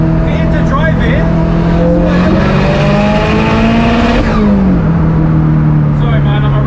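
A tuned 556 hp Subaru Impreza STI engine revs loudly and close, its pitch rising and falling through several sustained throttle pulls, with a voice talking over it.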